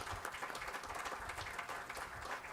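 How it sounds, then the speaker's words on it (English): Audience applause at a Pune business conclave: dense, steady clapping from a crowd filling a hall, fairly loud and sustained throughout with no clear voices over it. "Give her a big round of applause."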